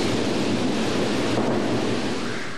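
Steady heavy rain pours during a thunderstorm at a football stadium where a practice is underway. A dense, constant roar with rumbling thunder underneath holds for the whole stretch at a loud, even level.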